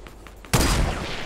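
A burst of gunfire from the video game Fortnite breaks in after half a second of quiet and rolls on as a loud, dense volley that fades only slightly to the end.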